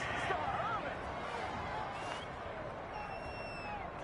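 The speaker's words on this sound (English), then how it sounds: "this crowd does not like that call" Stadium crowd in a PS4 football video game reacting to a roughing-the-passer penalty against the home team, a broad steady roar of voices with murmuring and scattered shouts throughout.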